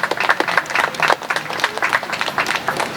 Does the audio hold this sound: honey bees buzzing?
no